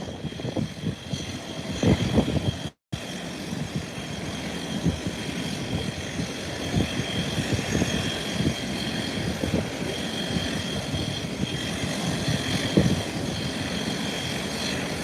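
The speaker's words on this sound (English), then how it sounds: "I see another small craft touching down at the threshold of the runway." Small aircraft touching down at a runway threshold, its steady engine and propeller drone heard from a distance over rumbling wind, with no voices.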